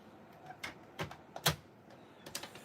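A paper trimmer cuts Stampin' Up! cardstock for card making, giving several sharp, separate clicks and slicing snaps spaced irregularly, close and fairly quiet, with no voices.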